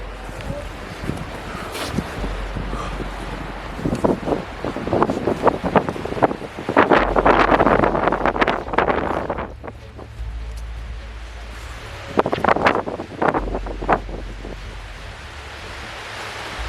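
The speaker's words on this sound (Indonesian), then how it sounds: "Anginnya juga kenceng banget." Strong gusts buffet the microphone on a steep mountain trail, roaring in heavy surges that rise and fade between quieter lulls.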